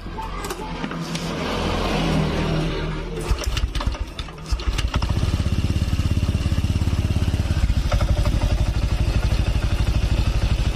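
A Honda Vario Techno 125 scooter engine with a leaking head gasket and radiator coolant loss is cranked and starts, then settles into a steady, close, rhythmic idle that continues for the remaining seconds.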